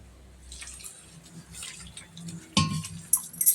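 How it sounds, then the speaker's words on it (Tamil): Small trickles and drips of water splash into a bowl of wheat flour, quiet at first, then a louder pour and clinking near the end. "கொஞ்சம் கொஞ்சமாக தண்ணி ஊற்றி கரைச்சிக்கலாம்"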